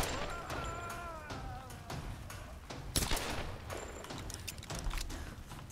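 Pistol shots ring out in the Tomb Raider video game, several sharp cracks scattered over a few seconds, the loudest near the middle, amid game ambience and faint background noise.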